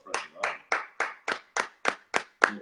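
A small group claps in slow, evenly spaced unison during a livestream, about nine sharp, close claps at roughly three per second with nothing else between them.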